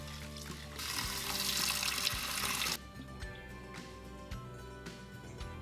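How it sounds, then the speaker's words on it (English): Water runs from a tap into a sink while dried shrimps and shiitake mushrooms are rinsed, a steady close splashing rush that stops abruptly partway, leaving faint trickles and small clinks. "rinse and rehydrate in water for overnight"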